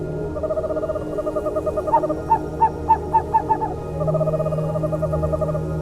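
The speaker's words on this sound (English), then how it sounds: "duet hoots to reaffirm their bonds with their mate." A pair of owls duet at night in a forest, trading a rhythmic series of loud, close hoots that quicken and pulse in the middle before settling into steady calls over a low background hum.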